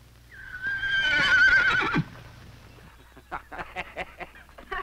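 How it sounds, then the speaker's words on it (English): A horse gives a loud, drawn-out whinny, then a series of hoof clops follows at an uneven pace close by. "that horse of yours."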